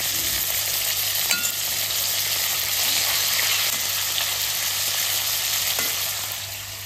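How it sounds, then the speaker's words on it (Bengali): Fish pieces fry lightly in hot oil, giving a continuous, even sizzle that stays close and steady before easing off slightly at the end, with no talking. "মাছটা বেশি কড়া করে ভাজবো না, আমি হালকা ভেজে নেবো।"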